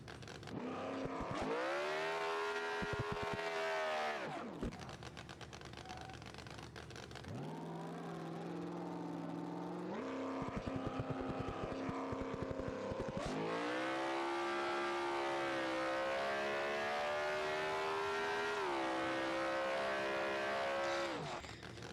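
A heavily tuned outlaw small-tire drag car in BeamNG.drive holds its engine at a high, steady rev on the line, droning loud and harmonic-rich, dipping briefly twice before climbing back to a sustained scream.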